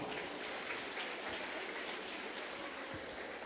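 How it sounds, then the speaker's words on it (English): Crowd applause for graduates at a tertiary education commencement ceremony, faint and steady, a distant patter of many hands clapping continuously throughout. "resounding applause."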